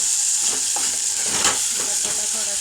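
Potatoes go into a pan of hot, spicy ghati masala for a peanut, mixed dal and potato amti, giving a close, steady sizzle of frying with scraping stirs and small crackles, and no talking.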